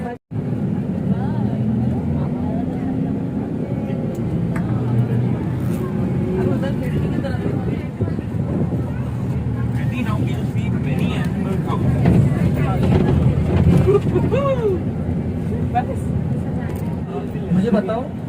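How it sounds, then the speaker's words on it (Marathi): Safari bus moving through Gorewada Zoo in Nagpur, a continuous low engine drone and road rumble from inside the vehicle, steady throughout with faint background voices. "चला गाडी सुरू झालेली आहे."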